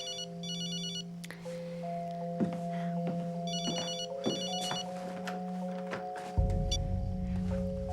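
A telephone rings in short repeated electronic bursts, fairly close and clear, with quiet room tone between the rings.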